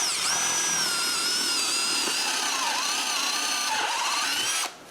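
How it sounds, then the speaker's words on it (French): A power drill whines steadily and close as it bores a hole in a piece of wood, its pitch shifting slightly under load before it cuts off at the end. "je peux marquer l'endroit où je dois percer les trous pour mon morceau de bois et je les perce."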